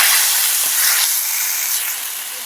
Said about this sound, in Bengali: দিয়ে ঝোলটাকে ভালো করে ফুটিয়ে নেব